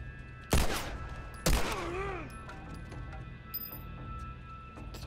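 Gunfire in the video game The Last of Us: two sharp, loud shots about a second apart, each with a ringing tail, then quieter clinks and game ambience, with no talking.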